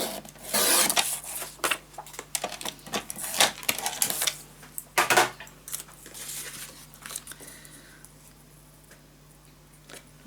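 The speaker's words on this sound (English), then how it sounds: "I'm gonna cut a piece that's 1/2 inch." Scissors cutting a small piece of paper for a scrapbook album, a run of crisp snips and rustles close up, loudest in the first half, then quieter handling.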